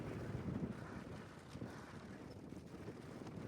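Wind buffeting a microphone during a bike ride into a headwind or side wind on a hot day, a continuous low rumbling roar with gusty swells and no voices.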